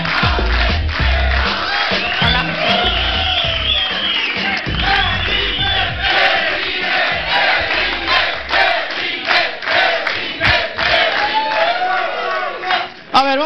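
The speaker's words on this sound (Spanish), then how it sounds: "Un aplauso para Pilar, que venga adelante." A studio audience at a talk show applauds and cheers loudly, with shouts and whoops over continuous clapping that keeps up throughout.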